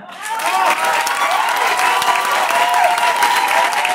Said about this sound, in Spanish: vamos a presentar a la compañía y cada uno se merece un aplauso por su, esfuerzo